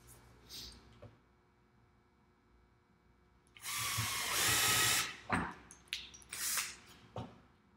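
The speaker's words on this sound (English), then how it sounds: "we're gonna use this to pre-drill" An electric drill pre-drilling wood whirs in short bursts, a loud sustained run followed by several brief pulses, with faint handling noise before it.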